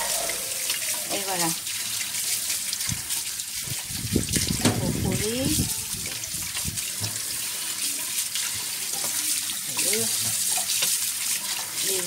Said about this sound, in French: je les rince tout dans le robinet comme ça